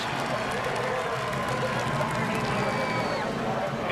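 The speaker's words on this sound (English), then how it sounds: "the crowd roars" A NASCAR race crowd roars loudly and continuously after Martin Truex Jr.'s tire-smoking burnout, a dense wash of cheering and clapping with a whistle-like tone sliding through the middle.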